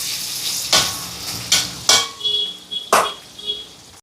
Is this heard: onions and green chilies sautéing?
yes